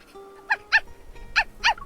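Small dog in a Love and Deepspace video game scene gives four short yips or whimpers in two pairs, close and fairly clear, with a faint tone in the background.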